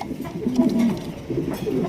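Racer pigeons at a large breeding farm cooing close by, low rolling coos running continuously with a few brief pulses.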